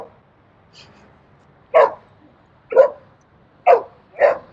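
A dog barks outdoors at a waterfront park during a group workout: four loud, evenly spaced barks follow a faint earlier yip, with no talk over them.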